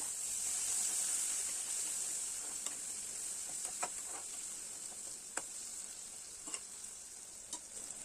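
Chopped tomatoes frying in a pan with ginger-garlic paste while making egg curry, a steady bright sizzle with occasional faint spatula scrapes and pops, no talk.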